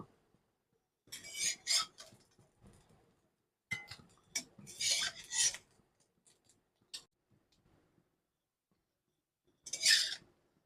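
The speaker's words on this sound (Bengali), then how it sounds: "এবার আমি ডিমগুলো তুলে নেব" Fried egg pieces being lifted out of a pan, with a few separate bursts of utensil scraping and clinking between silences.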